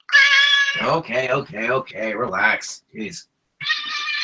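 A pet cat meows and whines loudly at close range, a long cry followed by a string of shorter wavering yowls, with a person speaking briefly in between.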